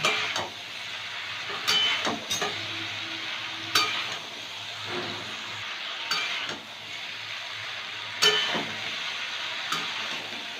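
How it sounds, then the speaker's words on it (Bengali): Vegetables sauté in a hot pan with a steady broadband sizzle, broken by several sharp scraping stirs of a spatula spaced a couple of seconds apart, close and moderately loud, with no talking. "এবার সবজিগুলো দিয়ে দেবো সবজিগুলো দিয়ে আর একটু কষাবো"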